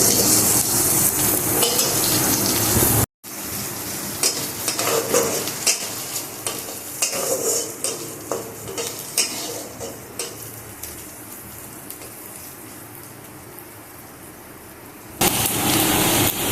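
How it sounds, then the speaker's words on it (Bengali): Onions poured into hot oil over browned garlic while cooking a bottle gourd peel paste, sizzling loudly and steadily with repeated stirring scrapes, a brief cut near the start. "এখন এর মধ্যে পেঁয়াজগুলো ঢেলে দিচ্ছি"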